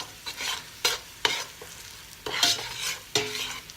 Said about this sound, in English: You want this to be like dark brown, really look like it's swimming in the soy sauce